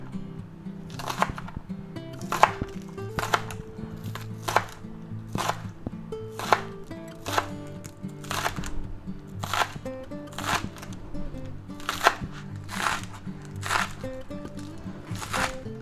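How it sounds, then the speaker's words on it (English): A sharp kitchen knife chops vegetables on a cutting board during frittata prep, giving a steady series of crisp, close thuds and crunches in an even rhythm, with no talking over them. "let's chop them up"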